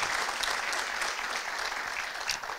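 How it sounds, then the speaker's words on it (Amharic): An audience at a motivational event claps together in sustained, dense applause, steady and fairly loud throughout with no voices over it. "ሁላችሁም አጨብጭቡለት"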